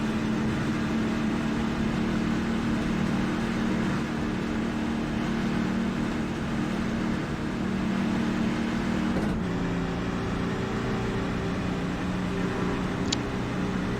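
A race car engine in iRacing at Charlotte drones steadily with a sustained tonal hum, its pitch shifting partway through, then holding at a lower steady note with no talking.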